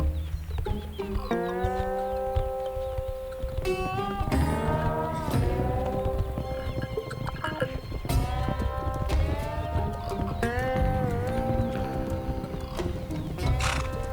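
Wild horses, a stallion among mares in heat, heard as hoof clops, snorts and repeated whinnies and neighs at moderate distance, set over a continuous musical background.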